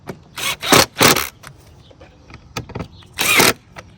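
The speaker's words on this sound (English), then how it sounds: "this little drill bit I'm using is not very strong" Several short whirring bursts of a small power drill driving screws during a Mercedes E400 engine air filter replacement, starting and stopping in quick succession, close by.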